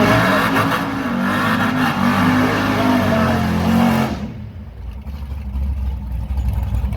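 An LS-powered GMC Sonoma drag racing truck in the Outlaw 10-5 class revs loudly with a steady, heavy engine roar for about four seconds, then drops away to a lower rumble at the strip.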